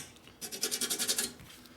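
Someone rubs grime off a part of a 1964 Harley-Davidson Sportster XL Ironhead chopper to reveal a stamped number: a quick series of close, rhythmic rasping strokes, loud and alone.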